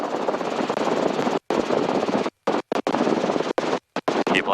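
A helicopter in flight during a training autorotation produces a loud, continuous, dense rotor and engine roar close by, cut by several abrupt brief silences.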